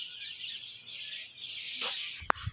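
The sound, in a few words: many birds chirping in the village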